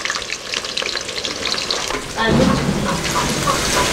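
Okra sizzles and crackles steadily in hot oil, a dense frying hiss that grows louder and fuller about halfway through, with no voices over it.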